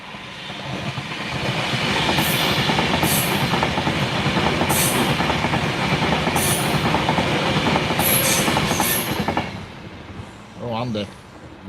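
A train passes on a railway line, a loud, steady rumble with clickety-clack wheel beats and occasional high squeals, close by, fading out near the end.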